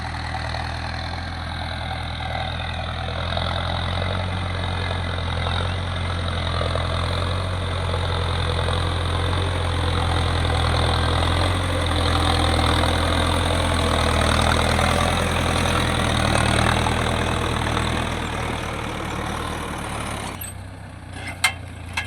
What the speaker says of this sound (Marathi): हे अशा प्रकारे जुने बेड पूर्णपणे आपण ट्रॅक्टरच्या सहाय्याने फोडत आहे